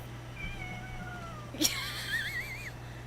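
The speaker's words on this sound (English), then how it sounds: "I don't know if anyone hears the meowing." A cat meows several times, rising and wavering, fairly close, over a steady low electrical hum, with one brief sharp knock partway through.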